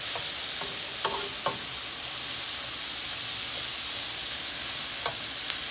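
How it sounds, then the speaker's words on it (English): Vinegar splashes into a hot pan for Jamaican escovitch fish, setting off a loud, steady sizzle and hiss that runs throughout, with a few faint clinks of a utensil against the pan. "Just gonna go in with a little vinegar."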